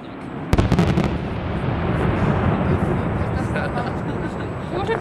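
Fireworks bursting at a castle-style display, a cluster of sharp cracks near the start followed by a continuous dense roar of crackling explosions, loud and close, with people talking faintly underneath.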